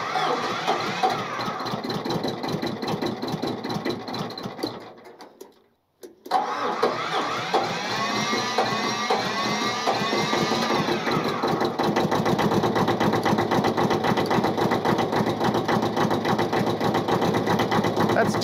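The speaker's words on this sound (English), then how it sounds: "It fires on one, sputters on two for a little bit, and then when all three kick in, you can finally let it sit and warm up." An old, roughly fifty-year-old three-cylinder engine cranks, stalls into silence, then catches, sputtering unevenly on one and two cylinders before settling into a loud, steady, rhythmic idle close by.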